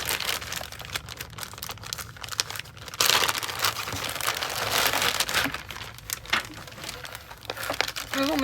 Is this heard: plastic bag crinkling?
yes